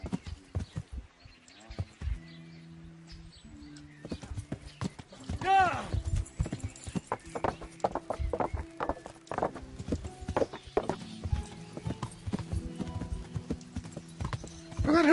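Rapid rhythmic hoofbeats clatter throughout as a horse gallops in the video game Kingdom Come: Deliverance, with a brief whinny, game music tones and a voice talking over it.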